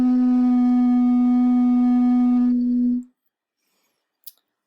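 A steady, pure hollow tone comes from blowing across an empty bottle, holding for about three seconds close and fairly loud before cutting off to silence, with a faint tap afterward.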